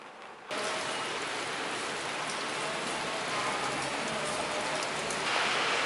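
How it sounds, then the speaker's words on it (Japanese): Steady rain falls on a Japanese street while a rental car is being delivered, starting abruptly after a brief quieter moment and continuing as an even, dense patter, slightly heavier toward the end. "はい、雨が降っておりますが、頑張っていきたいと思います。"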